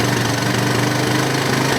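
An old Honda engine fed from a small makeshift test tank, with a carburetor needing cleaning, runs loud and close with a rough, uneven, spitting chug throughout.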